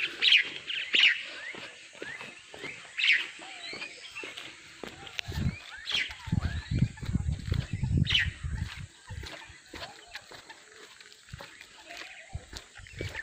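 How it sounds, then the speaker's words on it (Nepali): A songbird called the surungi sings near a lakeside path by a temple, giving repeated bright chirps and short phrases over about thirteen seconds while footsteps crunch close by. "चरा सुरुङ्गीको आवाज है"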